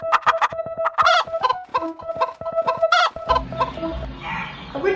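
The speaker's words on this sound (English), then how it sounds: "when you come in the bathroom here, they have chicken sounds playing" Recorded chicken clucks and rooster calls play through a restaurant bathroom's sound system, a steady run of repeated clucking notes, before a louder mixed background noise takes over in the final second or two.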